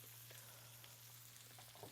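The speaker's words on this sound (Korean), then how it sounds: "열 전도율이 좋아서 그런지 음. 알에서 애들은 지글지글지글지글 끓고 있어요" Shrimp fry in butter in a hot pan, giving a steady, fairly quiet sizzle with a low constant hum underneath and no talk.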